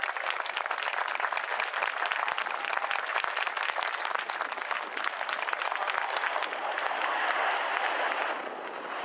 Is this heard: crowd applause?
yes